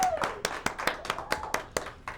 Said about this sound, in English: Isaiah, let's get a round of applause for this guy.